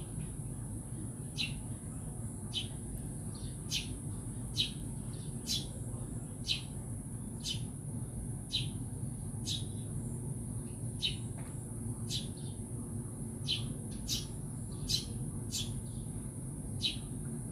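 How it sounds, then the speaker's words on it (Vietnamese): Morning birdsong in a countryside home, a small bird repeating short high chirps at a steady rhythm about once a second, moderately near over a low hum of background noise. "Buổi sáng nhà mình có tiếng chim hót líu lo luôn đó các bạn."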